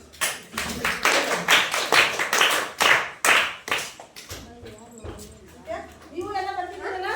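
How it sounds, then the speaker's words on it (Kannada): Students in a classroom break into a burst of group applause, many hands clapping in a dense rhythmic patter for several seconds before it thins out, with a teacher's voice talking afterward. "ಇವ್ರಿಗೆ ಚಪ್ಪಾಳೆ ಹಾಕಿ"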